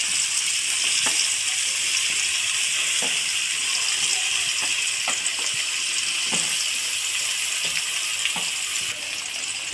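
Crushed garlic fries in hot oil with a continuous, fairly loud hiss, dotted with small crackles and faint clicks as it cooks on its own without voices.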